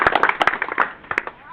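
An audience claps for a Bihar board topper at a ceremony, a burst of sharp, uneven hand claps that thins out over a second and a half, with a few louder claps near the end.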